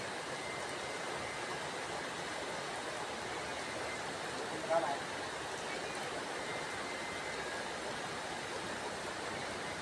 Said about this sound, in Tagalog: Hindi na natigil yung ulan.